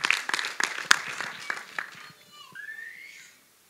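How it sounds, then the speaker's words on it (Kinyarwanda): Applause breaks out at a Rwandan wedding betrothal ceremony, a crowd clapping in quick uneven bursts that fade, then a high wavering ululation rises near the end. "Nibakompera amashyi impundu"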